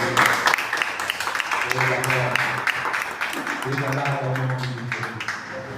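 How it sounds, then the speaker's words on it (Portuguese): Church congregation applauding during a worship service, a steady burst of clapping mixed with voices and a sustained tone underneath. "Dá uma salva de palmas."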